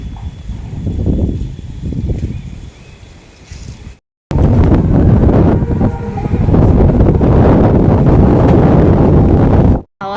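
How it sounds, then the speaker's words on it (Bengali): Strong wind buffets the microphone in heavy, roaring gusts, easing briefly before surging back loud and sustained. "খুবই হাওয়া চলছে তো আওয়াজ নিশ্চয়ই তোমরা পাচ্ছ"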